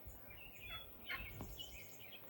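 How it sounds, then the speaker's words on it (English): A faint wild turkey hen's call sounds in a quiet outdoor setting in Texas, a few soft clucks and a brief higher note over low background rumble. "I think there's a turkey out here. I hear her clucking."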